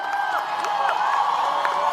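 Graduates cheering at the Karnavati University convocation in Gandhinagar: a loud, steady crowd roar of voices and whoops with some applause, and shrill whistles rising and falling through it.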